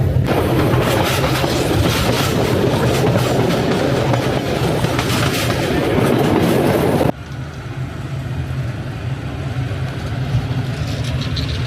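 A train runs on tracks in Hungary, heard from inside through open windows: a loud, steady rumble with rhythmic wheel clatter that drops slightly in level partway through and then carries on evenly.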